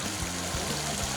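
Hot spring water flowing steadily at its source, a continuous close trickling stream with broad noisy texture and low gurgles.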